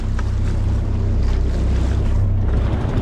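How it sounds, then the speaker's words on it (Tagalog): Rough sea waves churn after a strong northeast monsoon wind near a fish trap site, a continuous loud wash of surf and wind rumble heard up close without pause. "maalon pa rin mga idol, pero hindi na masyado"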